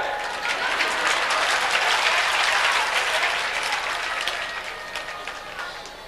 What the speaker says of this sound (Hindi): तुम ताली बजा रहे हो